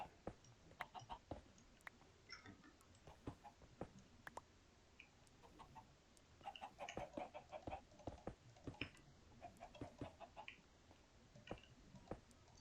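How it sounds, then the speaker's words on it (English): Chickens cluck and chatter throughout in Minecraft, a steady stream of short, clicky clucks at moderate loudness with no talking. "I also wasn't expecting to listen to chickens this entire time"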